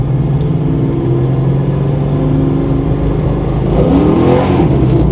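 A healthy Ford Foxbody Mustang, bought cheap and repaired, driving along with a steady loud engine drone and a rising rev near the end, heard from close by with no talk.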